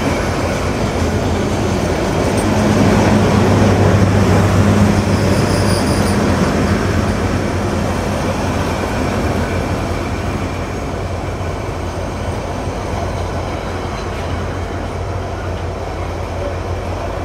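At night, a meter gauge train rolls into Natore railway station. Wagons rumble and rattle continuously at close range, and brief metallic wheel squeals rise around the middle, with no one talking.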